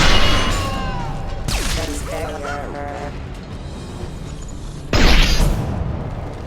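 Concussive shot fired in the Mass Effect 2 Legendary Edition video game: two heavy, booming impacts a few seconds apart rise over ongoing combat noise, with brief voices in between.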